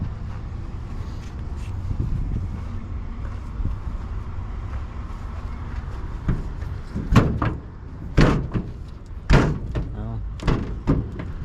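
A 1956 Studebaker Transtar 2E12 truck door shut firmly several times, giving loud, close thunks at spaced intervals over steady engine or road rumble.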